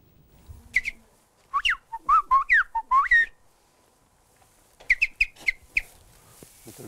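A farmer whistles imitations of birdsong, giving several quick bursts of rising and falling chirps and trills, a pause, then another run of short tweets, close and clear against a quiet background.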